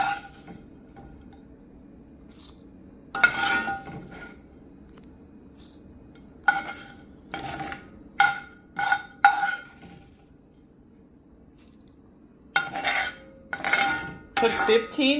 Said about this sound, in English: Now I'm going to put it in my bowl and get my toppings added to it.